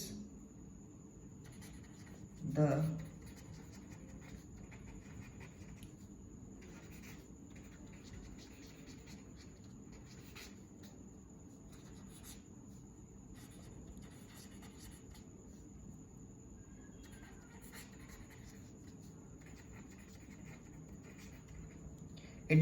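Pen strokes scratch across paper as chemistry notes are written by hand, faint and intermittent, with one louder scrape early on over a quiet background.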